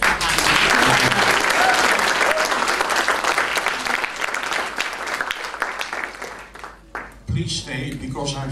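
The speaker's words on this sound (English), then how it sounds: "Let's clap hands." A conference plenum audience gives a guest a loud, sustained round of applause that thins out and stops, followed by a voice beginning to speak.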